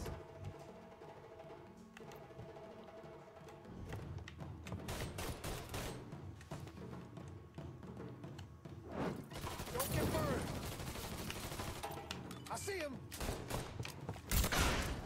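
Gunfire in the video game Mafia III crackles in rapid, dense bursts, loud and continuous through the second half, with heavy thuds and mechanical clatter mixed in.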